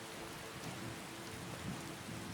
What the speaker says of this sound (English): Okay, it's raining. This is kind of making this a lot more ominous. I've also noticed there's thunder.